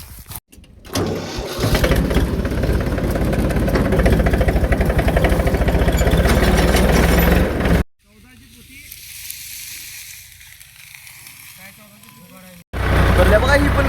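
A tractor engine runs loudly while driving through a sugarcane area, a steady rumbling drone with speech over it, then a sudden drop to a quieter idle-like passage before the loud running resumes.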